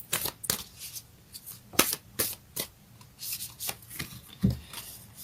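Moonology oracle cards being shuffled by hand, a soft papery riffling of flicks and slaps in an uneven rhythm, close up and quiet.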